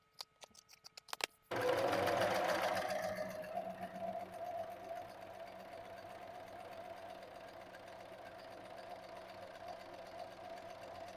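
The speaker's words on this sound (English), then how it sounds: "I'll take it over to the sewing machine" A sewing machine runs a steady zigzag stitch along the hem and sleeves of a patchwork dress upcycled from men's polo shirts, starting after a few clicks and whirring continuously up close.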